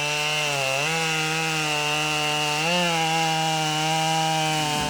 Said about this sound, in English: They can't believe that this is done with a chainsaw